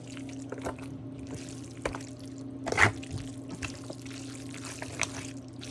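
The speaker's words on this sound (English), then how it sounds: "Sorry, I had to add more sauce, y'all." Extra sauce being poured over baked spaghetti in a dish, a soft liquid drip and trickle with a brief louder splash midway, quiet and close with no talking.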